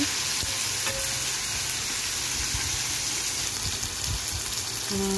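Onion and tomato fry in hot oil in a pan, giving off a steady, dense sizzle close by that holds at an even level, with the crackling sounding almost like rain and no talking.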